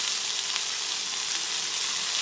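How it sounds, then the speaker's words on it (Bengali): Onions fry in a pan with chilli powder, turmeric and salt, giving a steady, close hiss of sizzling oil that carries on evenly throughout. "পেঁয়াজগুলোকে একটু ভেজে নিচ্ছি"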